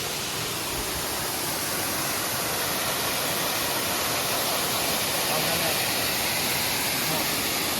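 A waterfall at Saltão roars continuously and close, a dense unbroken hiss of falling water filling the whole span with no pauses or change in level.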